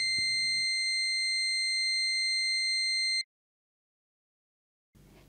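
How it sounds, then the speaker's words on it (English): A nitrogen generator control panel buzzer sounds during a lamp test: one steady, loud electronic tone held for about three seconds, then cut off into silence. "Press lamp and buzzer test on main control panel and each monitor panel to see all the indicators work properly."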